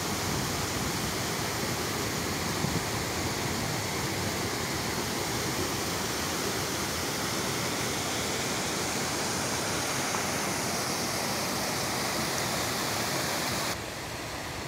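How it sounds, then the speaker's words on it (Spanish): A snowmelt stream rushes downhill through the El Gumial forest in Aller, Asturias, during rain and snow, giving a loud, steady, close roar of churning water that continues unbroken and shifts slightly near the end. "mirar cómo ruge el agua en su bajada"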